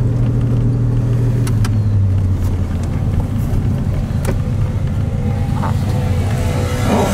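A 1981 DeLorean DMC with a Stage-2 fuel-injected engine driving, a steady loud engine and road rumble heard from inside the car throughout, with a low engine tone that drops as it shifts.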